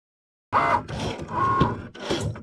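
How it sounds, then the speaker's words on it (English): A Cricut Maker starts cutting aluminum sheets, its motor whirring in close, short mechanical bursts with brief gaps as the carriage moves. "in Cricut Design Space, I've chose aluminum sheets for my material and we are ready to go."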